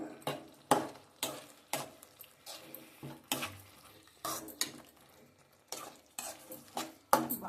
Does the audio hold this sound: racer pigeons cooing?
no